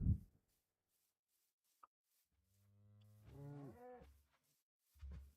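A cow in the Minecraft video game gives a single drawn-out moo with wavering pitch, clear and alone against near silence, followed by a short low grunt.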